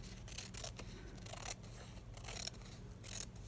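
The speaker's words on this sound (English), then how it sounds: "I need to cut a little bit more off of this edge" Scissors snip through wax paper for a craft window project, a close, crisp run of cutting strokes with repeated rustling snips, a few sharper closures standing out, no talking.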